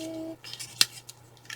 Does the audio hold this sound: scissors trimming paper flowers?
yes